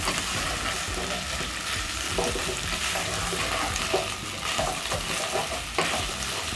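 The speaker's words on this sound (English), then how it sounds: "So as the pork cooks, you stir it around." Pork sizzles loudly in a hot pan while being stirred, a dense continuous frying hiss with occasional scraping and clicks of the utensil, close and steady throughout.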